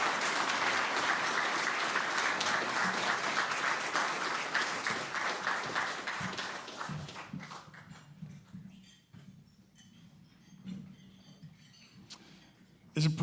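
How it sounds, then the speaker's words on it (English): Applause at a dinner event honoring military guests, a dense steady clapping crowd that fades over the first seven seconds, leaving quieter room noise with scattered voices and clatter. "Let's give a big round of applause to Lieutenant Colonel Andy Davis from RiseUp."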